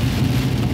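Steady rain falls in a brief, dense wash of noise with no voices.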